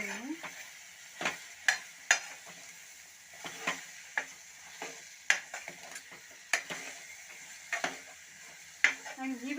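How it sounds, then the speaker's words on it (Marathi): Ridge gourd being stir-fried in a pan, with repeated sharp spatula scrapes and clatters at irregular intervals over a soft sizzle, close-up and without speech. "आता व्यवस्थित परतवून घेणार आहे मी."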